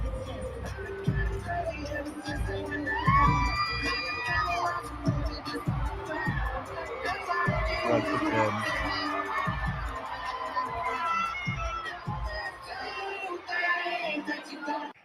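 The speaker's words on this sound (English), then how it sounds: "as the crowd is going crazy" A large stadium crowd roars and cheers wildly at a football event as players walk out onstage, a dense, sustained wash of shouting and whistles with a voice talking over it.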